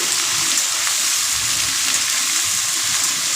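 Mixed winter vegetables, including cauliflower stalks, being stirred as they fry in a pan: a steady, close, bright sizzle that hisses continuously without pause, with no voices.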